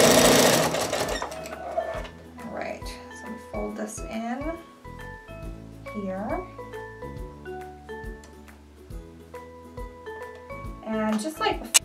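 Sewing machine stitching a jelly roll fabric rug, its motor whirring in bursts that start and stop, with someone talking over it throughout.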